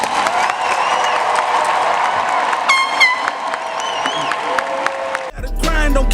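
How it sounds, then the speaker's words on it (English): Graduation crowd for the 2017 graduates applauds and cheers, with steady clapping, whoops and an air horn blaring, before loud music cuts in near the end. "For the graduates of 2017, please join me in a round of applause"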